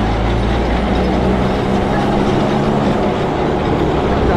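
A Kolkata tram running along the street, a steady broadband rumble with low-frequency rolling noise throughout, loud and continuous with no clear speech.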